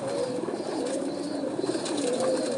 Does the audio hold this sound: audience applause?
no